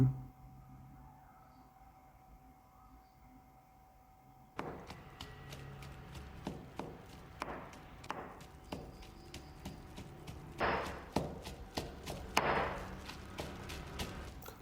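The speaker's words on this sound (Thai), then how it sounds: "ต่อไปนะครับผมจะโขลกพริกหอมกระเทียมนะครับ ที่คั่วไว้แล้วนะครับ โขลกจนละเอียดเลยนะครับ" Roasted chili, shallot and garlic pounded in a mortar with a pestle: a steady series of sharp, close thuds in an even rhythm begins after a few seconds of quiet room tone and grows slightly louder and busier toward the end.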